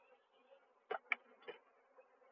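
Honeybees working across the flow frames of an opened hive in summer give a faint, steady buzz, broken by a few brief, sharp knocks close by.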